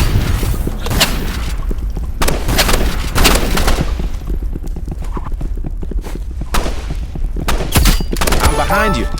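Gunfire in the video game Rivals, with repeated sharp shots and bursts spread through the clip, fairly loud and mixed with other game effects.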